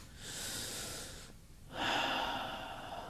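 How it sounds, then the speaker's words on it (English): One slow, audible breath is drawn in close to the mic, a steady airy rush that stops briefly, then a louder breath follows and trails off. "Take a breath."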